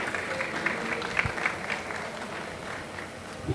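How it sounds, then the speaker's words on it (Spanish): An audience applauds a speaker after a talk at an online gaming platforms event, with steady sustained clapping from a mid-sized crowd filling the room for several seconds, no voices over it. "Un gran aplauso, por favor, a Jorge por tan interesante exponencia."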